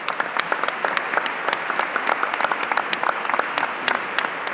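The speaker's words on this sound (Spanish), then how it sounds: "a quien pido un fuerte aplauso" Lively clapping from an audience at a human rights forum, welcoming a moderator, with sharp individual claps standing out across a sustained crowd ovation.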